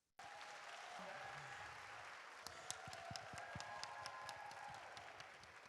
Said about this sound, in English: please join me in a virtual and in-person applause to welcome Spelman College President, Dr. Helene Gayle and Tracee Ellis Ross